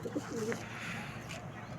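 Pigeons in a loft in Howrah coo softly at close range, a couple of low throaty calls at the start over quiet room ambience with faint rustling.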